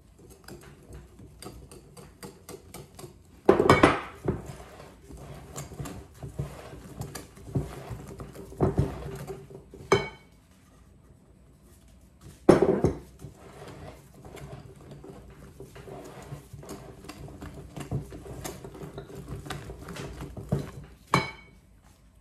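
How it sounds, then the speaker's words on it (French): Batter for a three-chocolate cake being mixed in a bowl: quiet scraping and stirring broken by a few sharp utensil knocks against the bowl, close and intermittent. "Je vais mélanger le tout."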